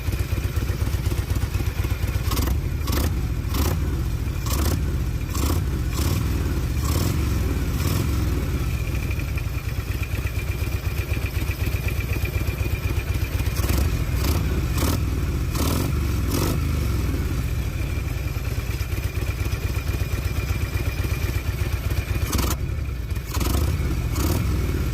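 A Harley motorcycle engine with a rusty exhaust idles steadily and loudly up close, with a continuous rumbling, chugging throb and a little metallic clatter throughout.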